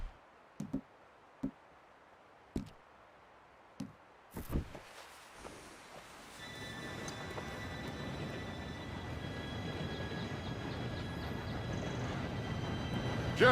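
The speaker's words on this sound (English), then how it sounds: "Train should be here any minute now" A steam train approaching in Red Dead Redemption 2, a few isolated clicks and knocks first, then a steadily rising rumble with faint whistle-like tones growing louder as it nears.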